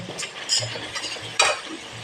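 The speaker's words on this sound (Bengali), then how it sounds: "আলু কষার জন্য আলুটা একটু ভেজে নিয়েছি আর একটু ভেজে নেব" Potatoes frying in a pan with a spatula stirring and scraping in irregular bursts, soft sizzle underneath and a sharper clatter near the end, close and alone.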